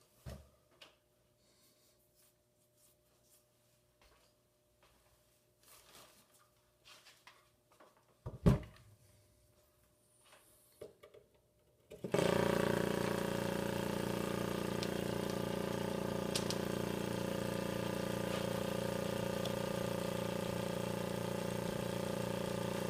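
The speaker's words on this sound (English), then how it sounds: "So now we turn on our pump." A vacuum pump for laying up a 1/8 scale F-100 stabilizer part switches on partway through, then runs as a loud, steady motor hum with no break until the end. Quiet handling noises come before it.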